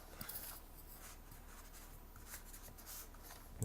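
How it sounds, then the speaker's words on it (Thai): Sheets of paper being shuffled and arranged on a desk, a soft, continuous rustle of handled pages with a few sharper scrapes and taps, quiet and close, with no one speaking. "เดี๋ยวขอจัดระเบียบกระดาษแป๊บหนึ่งนะครับ"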